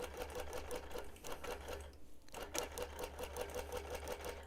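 Long-arm quilting machine sewing a quarter-inch basting stitch, a rapid even mechanical chatter of needle strokes over a low motor hum, with a brief dip in the rhythm midway.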